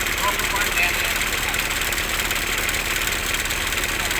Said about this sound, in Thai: แล้วก็รถไถของพี่หำครับ